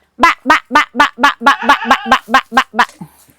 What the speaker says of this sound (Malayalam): അതാ മോനെ അവിടെ താറാവ് പുതിയ ആൾക്കാരുള്ളതുകൊണ്ടാണ്